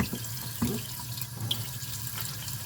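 Tap water running steadily into a kitchen sink while hands are washed before handling jasmine rice, a constant close splashing hiss with a few small splashes and no speech.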